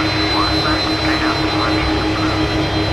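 A Thai Boeing 777-200's jet engines roar on the runway at Kuala Lumpur during the takeoff run, a loud, steady, unbroken rumble that fills the whole stretch.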